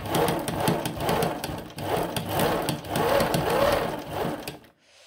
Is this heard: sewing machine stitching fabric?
yes